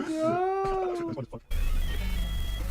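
A cat lets out one long, drawn-out meow, close and clear, then a burst of loud rumbling noise takes over.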